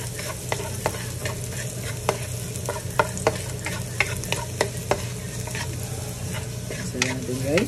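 Garlic fries in a hot pan with a loud, steady sizzle. A utensil stirs it briskly, giving frequent sharp scrapes and clinks, and a faint tonal whine rises near the end.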